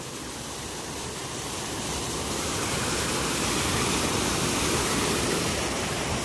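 Steady, powerful roar of a waterfall, broadband rushing water filling the whole clip and growing slightly louder toward the end, with no voices.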